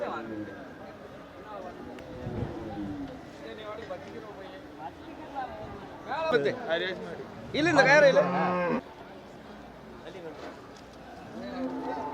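Cattle low and moo at the busy Manapparai cattle market in Tamil Nadu, with a couple of loud calls rising out of the crowd noise while people talk throughout.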